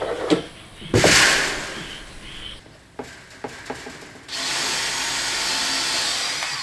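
Power drill boring holes for a porch door, a few short clicks and bumps, then a loud steady drilling whine near the end, close by with no talk.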